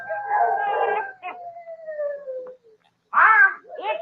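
A dog howls in an old film, a long wavering wail that slides down in pitch, then after a short pause a second howl rises, loud and close.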